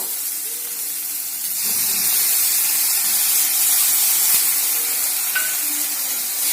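Mustard paste going into a pan of frying potatoes, snails and onions, with a steady close sizzle and hiss that swells after the paste is added, plus soft scraping and stirring.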